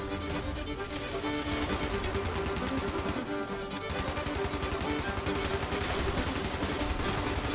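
Rapid automatic gunfire in the video game Fallout 76, a continuous stream of evenly spaced shots with a brief pause near the middle, loud and close.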